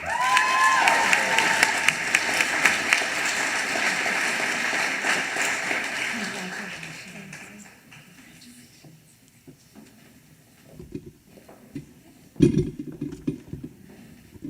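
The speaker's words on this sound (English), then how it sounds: "let's give them one more round of glorious applause" Applause for graduates at a spring graduate commencement ceremony, a dense crowd clapping that swells then fades out, followed by scattered claps and a few close thumps.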